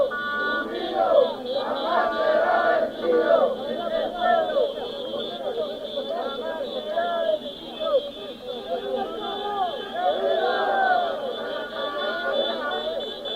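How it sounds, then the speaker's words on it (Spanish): A peaceful protest march in Quito, Ecuador, with the crowd chanting a slogan against neoliberal policies: many voices shouting in rhythmic unison, steady and fairly close, rising and falling without pause. "La consigna que dice: únete pueblo a luchar contra las políticas del neoliberal."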